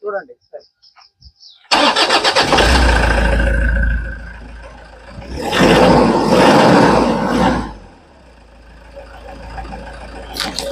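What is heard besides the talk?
Toyota Innova engine starting and running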